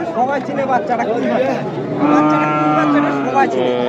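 Native bulls at a busy Bangladeshi cattle market moo and low loudly nearby, with a long drawn-out call partway through, over steady crowd chatter and talking.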